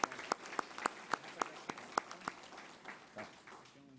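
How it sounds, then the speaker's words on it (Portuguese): Sparse, distinct handclaps ring out in a formal church session hall, a handful of sharp claps at a steady pace that thin out and fade toward the end, fairly quiet and reverberant. "merece uma salva de palmas"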